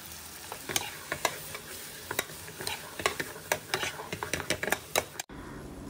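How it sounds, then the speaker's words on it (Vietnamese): Tomatoes stir-frying in a pot, with steady sizzling and repeated sharp clinks and scrapes of a utensil stirring, loud and close, until a sudden quieter stretch at the end. "đi phi cà chua khoảng 5 phút"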